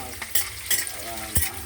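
Chillies frying in a pan with oil, a steady crackling sizzle with a few stirring scrapes at intervals, close by and with no talk.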